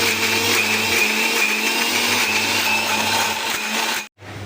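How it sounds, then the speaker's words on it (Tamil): A mixer grinder whirs loudly and steadily for about four seconds while grinding spicy chutney, then cuts off abruptly before starting up again. "ஒரு மிக்ஸி ஜாரில் அரைச்சிக்கலாம்."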